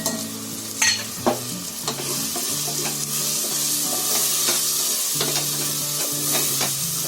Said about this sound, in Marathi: 1 मिनिट मसाला फिरवायचा फक्त.